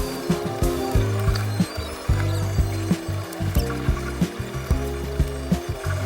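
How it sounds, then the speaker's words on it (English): Base housing of a Bambu Lab A1 3D printer being screwed together during assembly, with a steady run of close, sharp ratcheting clicks and small mechanical taps repeating throughout. "Screw the holes inside the bed, see the guides."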